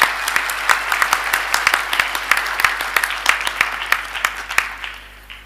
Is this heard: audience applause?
yes